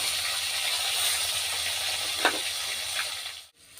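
Chopped onions sizzle in hot oil with a dried red chili and whole cumin seeds, a steady close hiss of frying running throughout with a few faint crackles and a sudden drop near the end.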